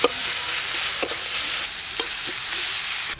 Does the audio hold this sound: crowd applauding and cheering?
no